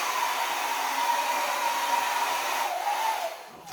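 Steady, loud blowing air, like a hair dryer, pushing white acrylic paint across a pour painting, a continuous broadband whoosh that drops off near the end with no talking.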